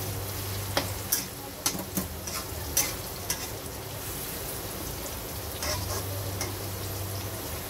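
Beans and carrots frying in a pan for a homemade Chinese-style dish, a soft steady sizzle broken by sharp ticking spatters and occasional stirring scrapes.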